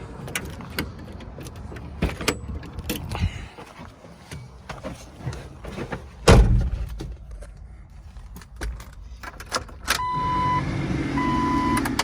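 On a 2004 Jeep Wrangler two-door, sharp clicks and clunks sound up close as keys work the door locks and the door opens, followed by a steadier engine or fan hum near the end.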